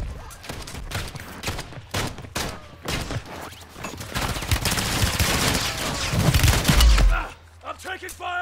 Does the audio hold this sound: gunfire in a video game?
yes